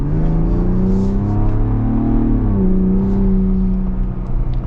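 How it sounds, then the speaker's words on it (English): A Ford Bronco Raptor's engine pulls hard under acceleration, a loud, steady, close-up roar with rising harmonics that dip and resettle partway through, apparently a gear change, with no talking. "Good power with the Bronco Raptor"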